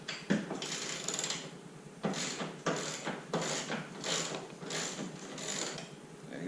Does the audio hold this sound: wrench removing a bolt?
yes